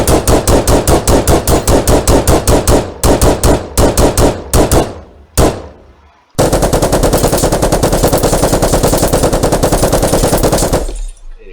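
A modded gun fires in Minecraft in rapid automatic bursts, loud and close, with a brief pause and a couple of single shots before a long, sustained stream of fire that cuts off abruptly.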